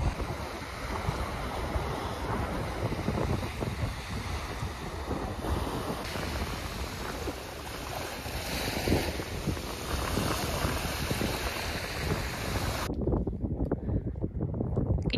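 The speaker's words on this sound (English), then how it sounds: "It's windy as fuck." Strong wind roars continuously across the microphone at a small beach in Scotland, with rushing surf in the background and no one speaking.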